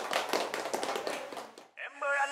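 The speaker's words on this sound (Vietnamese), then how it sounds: "Cho một tràng pháo tay đi mấy cô" Brief burst of clapping from guests at a Vietnamese wedding ceremony, dense rapid claps fading out after about a second and a half, followed by a short tonal musical sound.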